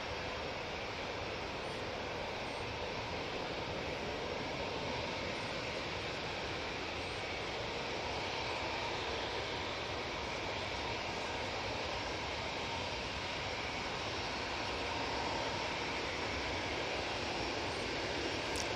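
A TUI jet airliner rotates and climbs away from Manchester Airport, a long, steady, fairly distant engine roar, broad and even throughout with no talk.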